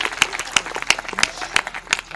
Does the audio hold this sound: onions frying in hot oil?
no